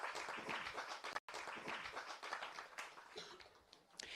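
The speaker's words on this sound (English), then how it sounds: "Can you please give him a round of applause as he comes to the podium?" An audience at a stakeholder engagement meeting applauds the town's mayor as he walks to the podium, a steady wash of many hands clapping with one brief break, heard from within the room.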